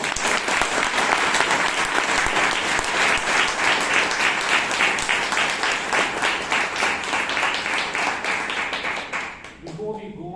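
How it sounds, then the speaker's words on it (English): A Toastmasters meeting audience claps in a loud, dense round of applause that holds steady for about ten seconds before tapering off, with a few voices mixed in. "react with a good round of applause"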